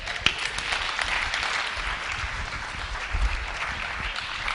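An audience at a New York conference applauds a poet taking the stage, sustained full-room clapping that stays loud and even, with a sharp clap or two standing out near the front.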